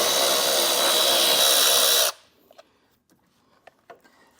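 Power tool spinning out a 10mm bolt on the horn bracket of a 2022 Jeep Grand Cherokee, a loud close whir for about two seconds that stops abruptly, followed by a few faint clicks.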